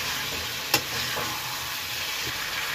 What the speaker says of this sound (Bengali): ছোটো আলু অ্যাড করে দিলাম। 2 1 মিনিট আলুটা নাড়াচাড়া করে নেব।